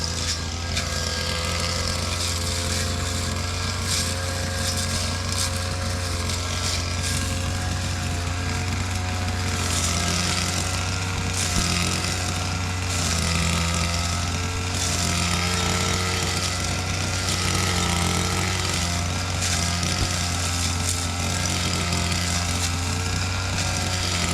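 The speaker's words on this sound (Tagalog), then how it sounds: "si Bapan Jun nag-grass cutter na dito" A grass cutter runs outdoors with a loud, steady engine drone and a constant mechanical whine that holds at the same level throughout, with no voices.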